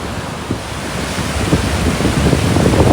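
Glacier meltwater stream rushing under a small bridge near Thajwas Glacier at Sonamarg, Kashmir, a loud, close, continuous roar of turbulent water mixed with wind buffeting the microphone.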